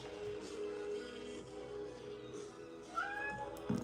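A cat meows faintly over a low background hum in a room where Lego Star Wars sets are being sorted, with a short rising meow followed by a brief higher cry.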